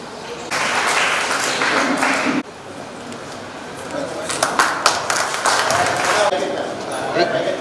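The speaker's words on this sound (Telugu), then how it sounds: "క్లాప్స్" Applause from the audience at a weightlifting competition in a training centre hall, a steady wash of clapping that cuts off abruptly and resumes with scattered, uneven claps and some crowd noise.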